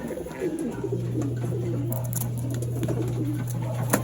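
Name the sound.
racing pigeon arriving at loft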